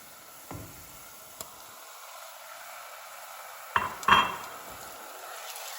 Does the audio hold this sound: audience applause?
no